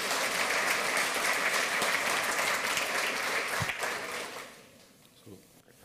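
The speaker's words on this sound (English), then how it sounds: "round of applause" Warm applause from a conference audience welcoming two speakers to a talk on the Tor network, a dense steady wash of clapping that holds loud for about four seconds, then thins and fades out.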